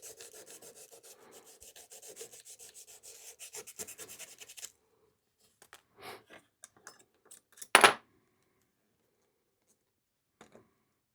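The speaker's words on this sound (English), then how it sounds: "just some 320 sandpaper, and we'll just start sanding on it." Rhythmic, close scratchy rubbing of 320-grit sandpaper on a tobacco pipe stem in rapid strokes, then it stops and a few scattered scrapes and a sharp rasp follow.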